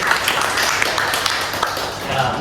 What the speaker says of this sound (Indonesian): beri tepuk tangan untuk Berta